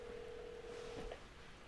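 A phone call being placed during an executive board meeting: a steady electronic tone sounds for about a second over faint room noise, then cuts off.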